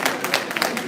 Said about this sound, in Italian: Applauso spontaneo